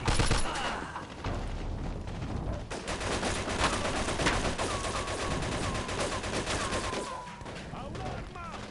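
Heavy gunfire from the video game Mafia 2, dense overlapping bursts of automatic shots and rapid fire that stay loud and continuous throughout, with voices shouting underneath.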